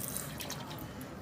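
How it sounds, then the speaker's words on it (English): Water flowing through the line of a dental model trimmer just after a clog was cleared with a wire, heard as a steady close splashing, dripping rush that runs continuously for the whole short moment. "we'll turn this guy on, and we're expecting water to flow pretty good"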